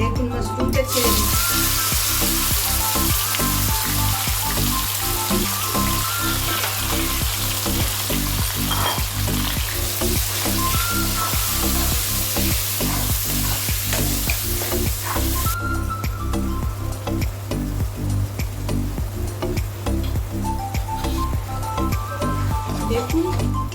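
Mushrooms hit hot mustard oil with whole spices for a mushroom masala, setting off a loud, steady sizzle with frequent stirring scrapes that runs unbroken for the whole stretch, close and dense with no talk.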